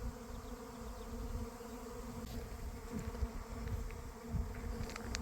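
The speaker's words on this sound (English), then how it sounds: "Bees swarming." A honey bee swarm buzzes steadily all around, a dense continuous drone of many insects with no voices, heard from right in the middle of the moving swarm.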